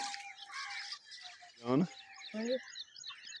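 Crows and other birds gathered in a village field in the morning to peck at insects, giving scattered chirps and a harsh squawk at moderate distance.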